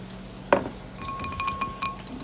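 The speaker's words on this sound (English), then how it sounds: "Different sound with water in the glass." A drinking glass filled with water clinks several times in a kitchen where a casserole is being cooked: one sharp tap, then a quick run of bright ringing chimes, close and clear.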